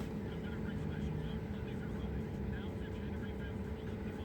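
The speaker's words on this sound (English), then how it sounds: "I'm sitting here with the engine running because it's freezing" An LS-swapped 2500HD truck sits idling on a freezing day, its engine giving a steady, continuous low rumble throughout, with no break or change in pitch and no talk over it.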